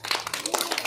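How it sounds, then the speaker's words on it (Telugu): Children in a classroom give a short burst of quick, dense clapping, fairly close and moderately loud, lasting under a second. "క్లాప్స్ కొట్టండి."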